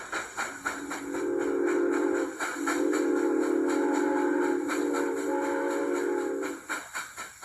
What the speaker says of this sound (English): German company manufactures these G-gauge trains.